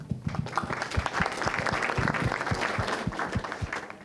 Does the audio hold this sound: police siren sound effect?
no